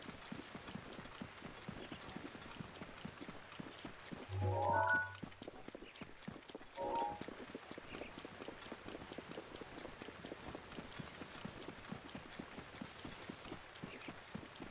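Horse hooves clip-clop steadily in Zelda Breath of the Wild during rain, a fast, even stream of light hoofbeats with a brief whinny-like sound midway, over a faint background hiss.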